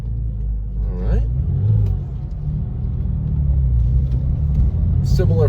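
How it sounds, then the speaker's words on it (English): A Porsche 911 of the 996 generation with a flat-six engine revs nearby, a deep steady rumble rising and holding while people talk over it. "Similar flat six kind of sound to it."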